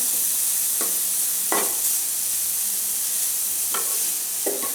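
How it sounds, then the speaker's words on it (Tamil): Grated beetroot roasting in ghee in a pan for a beetroot payasam gives a steady soft sizzle, broken by a few short scraping stirs of a spoon, with no talking. "பீட்ரூட் வந்து நெய்யில் வறுக்கும்போது இது தீஞ்சிடக்கூடாது"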